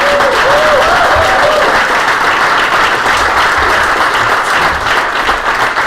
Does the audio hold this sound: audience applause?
yes